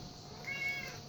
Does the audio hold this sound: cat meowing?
yes